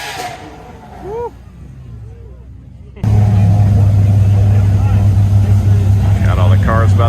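Lamborghini SVJ supercar with a V12 engine fires up at a Cars and Coffee show in Charlotte: quiet outdoor ambience with faint chirps, then an abrupt, loud start that settles into a deep, steady, close-up idle rumble.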